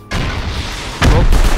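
In Rust, a loud rushing blast kicks in sharply, then a second heavy boom follows about a second later, both close and booming with a deep low rumble.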